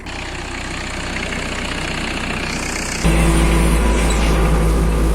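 An Iseki Japanese tractor with a rotary tiller works virgin ground after a soy crop, its engine droning loud and steady close by and growing heavier and deeper partway through; no one speaks.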